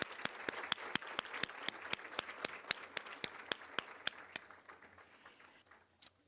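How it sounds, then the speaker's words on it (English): Applause at a Salute to Women ceremony, sharp, evenly spaced claps ringing out over a softer crowd wash that thins and fades toward the end. "One more round of applause, please"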